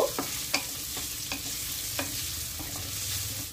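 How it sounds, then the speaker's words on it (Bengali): Chopped onion frying in a pan for a drumstick-flower chorchori, a soft steady sizzle broken by a few light stirring scrapes and clinks, close and alone with no voices. "পেঁয়াজটা ভালো করে ভেজে নেব।"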